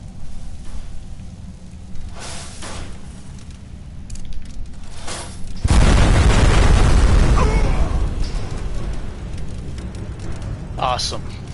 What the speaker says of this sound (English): Just having the fire rune in both hands seemed to blow it up.